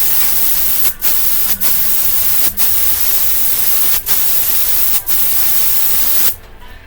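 A spray gun lays down diamond plate bed liner at 30 psi in a loud, steady hiss, broken by five brief pauses before cutting off near the end; no one talks over it.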